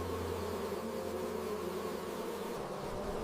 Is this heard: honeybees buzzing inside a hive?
yes